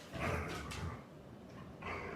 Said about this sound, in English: He barks because he wants the attention